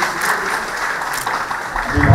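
Crowd applause at a state teachers' award ceremony honouring teachers on Teachers' Day, a bright rattling clatter of hands mixed with indistinct voices, rising louder near the end.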